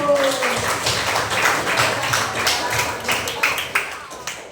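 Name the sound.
applause in a classroom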